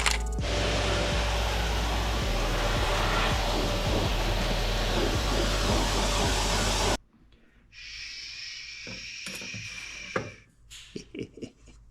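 A vacuum cleaner roars loudly and steadily for several seconds, then cuts off, leaving quieter clicks and handling noises.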